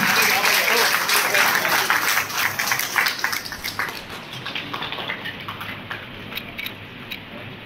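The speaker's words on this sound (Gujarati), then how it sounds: "તાળીઓના ગડગડાટથી આપણે વધાવી દઈએ." Applause from an audience at a taluka Home Guards unit programme and cheque distribution held at DCM College in Viramgam: dense, loud clapping that thins and fades toward the end.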